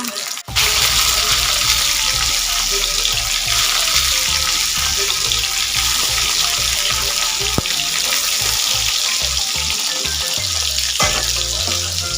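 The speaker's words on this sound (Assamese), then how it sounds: "এনেদৰে মই মাছখিনি ফ্ৰাই কৰা।" Fish pieces frying in hot oil in a pan give a close, continuous sizzle with crackling and popping throughout, broken by a brief sharp knock near the start.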